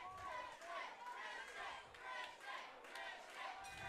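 A crowd at an MMA combat night in Orlando yells and cheers in rising, surging waves, with shouting voices mixed into a steady, fairly distant roar.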